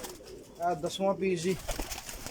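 Pigeons coo in a loft where birds are being shown for sale, with soft throaty cooing in short rolling phrases heard close by under a man's speech.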